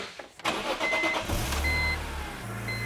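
A BMW M car fitted with a Eurospec exhaust idling close by after starting, a steady low engine rumble with a slight burble holding through the whole stretch.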